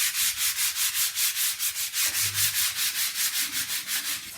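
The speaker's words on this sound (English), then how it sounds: "I do think rubbing down is one of my least favourite jobs" Paintwork is rubbed down by hand with sandpaper while decorating, a steady back-and-forth scraping in an even rhythm of about four strokes per second, loud and close, with no voices.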